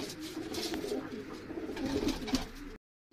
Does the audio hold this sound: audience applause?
no